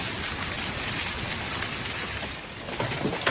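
Heavy rain with hail and strong wind during a storm in Beijing, a dense, steady roar of falling water and pelting ice across the whole stretch, loud and continuous with no voices.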